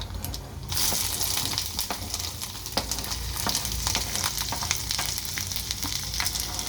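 Finely chopped ginger frying in a pan for restaurant-style curd rice gives a loud, steady sizzle with scattered crackles and pops close up throughout.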